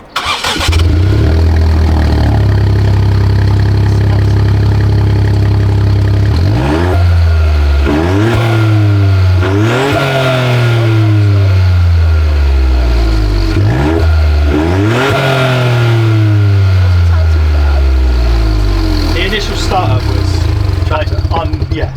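A 2022 Ford Puma ST with a cheap cat-back exhaust fires up with a rough, tractor-like rumble, then revs repeatedly, each throttle blip rising and falling loudly up close.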